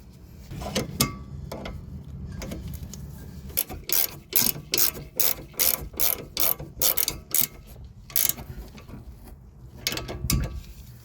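A hand ratchet tightens the upper sway bar link nut on a Toyota Camry's rear suspension, producing a run of sharp, evenly spaced clicks in quick bursts, close and clear with no talking.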